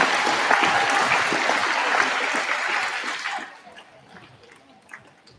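Audience applause at a school prize giving fills the hall loudly and steadily, then drops off sharply to near quiet partway through.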